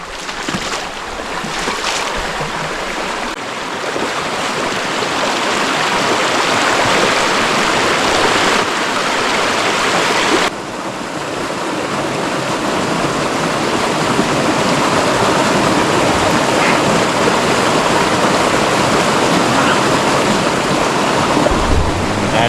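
Genal river water rushing over slippery, algae-covered stones, a loud, steady, close broadband roar with no talking.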